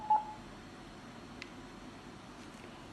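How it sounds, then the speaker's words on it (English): A security camera after its reset button is held down gives a single short, faint electronic beep near the start, followed by quiet background hiss. "Press the reset button for around 4 seconds till a bub sound."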